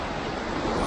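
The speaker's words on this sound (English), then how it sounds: "See, that water is kicking up." Rough sea waves breaking along a rocky Jamaican shoreline, a steady loud wash of surf with wind noise buffeting the microphone, building slightly toward the end with no voices.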